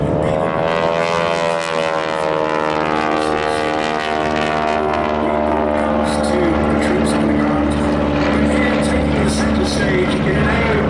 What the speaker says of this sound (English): with its Nimbus turbine engine, the only turbine that we operate in the historic Army aircraft flight